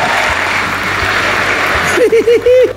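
An audience at a live comedy show applauds in a dense, steady burst of clapping for about two seconds. A voice then speaks briefly as the applause dies away.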